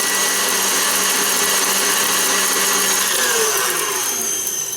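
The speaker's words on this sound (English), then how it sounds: "Now we'll beat the meringue for about 20 more seconds." An electric mixer whirs loud and steady as it beats firm meringue, a continuous high whine with a slight pitch change near the end and no talking.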